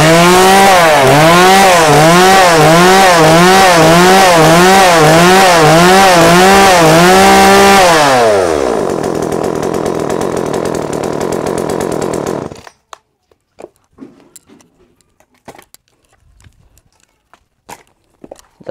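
A 34cc Japanese chainsaw running loud and close, revving in rhythmic surges, then dropping to a steady idle before cutting out, followed by scattered footsteps and handling noises.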